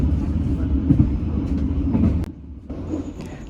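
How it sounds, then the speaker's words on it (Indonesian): Bengawan passenger train rushing through Karawang station without stopping, a loud continuous rumble and rattle of wheels with a brief sharp screech, the roar easing slightly toward the end. "kereta api Bengawan itu ngebut nih guys, berjalan langsung di stasiun Kerawang"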